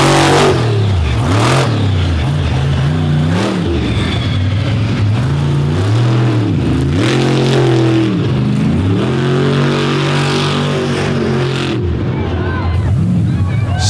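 An Indy car engine revving hard while spinning donuts on a loose, powdery surface, a loud continuous high-pitched roar that rises and falls with throttle, wavering pitch as the car rotates, with a voice talking over it.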